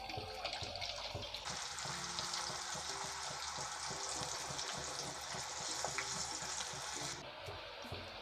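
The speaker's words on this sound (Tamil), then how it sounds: "இது நல்லா ஃப்ரை ஆகி இந்த சலசலப்பு சத்தம் நிற்கணும்." Mochai beans fry in hot oil over a medium flame, a dense, continuous sizzle and crackle that swells louder partway through and stays steady, close up with no speech.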